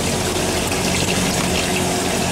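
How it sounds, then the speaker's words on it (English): Water drains steadily from a 1961 Electrolux Dishmaid dishwasher through its open drain valve, a continuous rushing, gurgling flow that holds at an even level throughout with no voices. "You can see the machine start to empty now"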